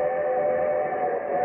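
A steady, sustained train whistle or horn tone holds level throughout, loud and close, with no voices.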